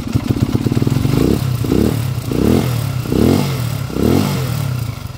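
A TMX155 motorcycle upgraded to 200cc idles with a loud, close, lumpy engine tone, then revs in five short repeated bursts. Each burst rises sharply and quickly falls back to idle.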